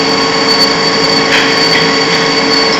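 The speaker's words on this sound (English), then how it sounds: "this is a pretty big long drill in there. And what that's going to do is cut a clearance hole" A CNC machine drives a long drill to bore a clearance hole, giving off a loud, steady whine with a constant tonal hum and no pauses; no one speaks.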